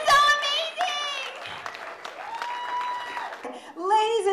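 Applause from an award-ceremony audience at the Lucky Strike Film Festival, honoring Alexander Mann; steady clapping runs the whole time, mixed with voices and cheering that carry over it.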